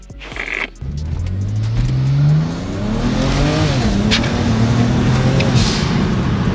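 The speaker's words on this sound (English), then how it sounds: "pops and crackles, off you go." Tuned BMW, an impounded car running a flashed version 10 tune, revs hard with rising engine tones across several gear pulls, loud and close, with a steady rush of road noise beneath.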